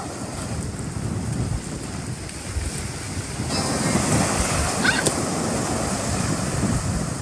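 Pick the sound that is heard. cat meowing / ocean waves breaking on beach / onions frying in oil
ocean waves breaking on beach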